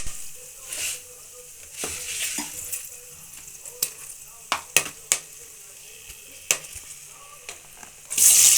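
Ingredients fry in a hot pan for tomato bath, a steady sizzle with scattered clinks and scrapes of stirring, ending in a louder burst of frying.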